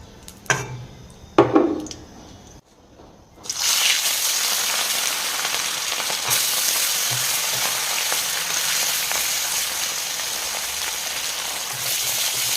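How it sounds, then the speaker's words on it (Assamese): Pieces of fish are dropped into hot oil and fry with a loud, dense, steady sizzle, close by. A few brief knocks come first, then the hissing carries on unbroken. No voices are heard. "এতিয়া মই মাছকেইটুকুৰ ভাজি ল'ম"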